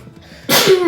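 One sharp, loud sneeze bursts out after a moment of quiet room tone, with a brief nasal tail trailing off at the end.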